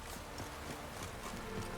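Horse hooves clip-clopping steadily along a road in The Witcher 3: Wild Hunt, a continuous, even trotting rhythm at moderate level with no voices over it.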